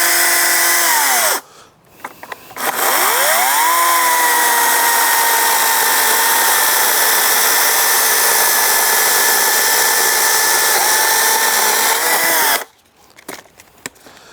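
A Greenworks chainsaw revs up and runs steadily at high speed for about ten seconds, its chain whining loud and close, with short idle dips and spin-downs at the start and end.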